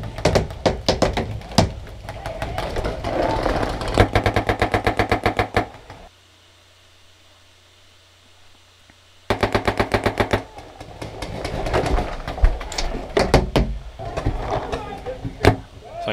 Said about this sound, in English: I'm getting shot from the right.